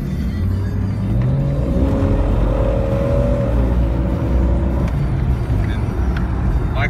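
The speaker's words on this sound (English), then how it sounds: "Engine sounds as smooth as can be." A lifted, stage 2 modified two-door Jeep Cherokee's 200,000-mile engine hums close by, its pitch rising and falling as it revs, steady and loud throughout.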